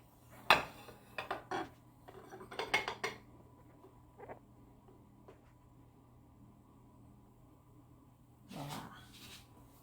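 A hot ramekin of chocolate lava cake flipped onto a plate, giving a few light ceramic clinks and knocks close by, then a quiet stretch and one more soft clatter.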